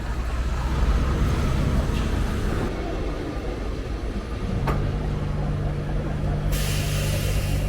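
An old trolley bus on a Lisbon street, with a hiss of air brakes, a sharp clank and a steady electric motor hum, heard close amid constant street noise.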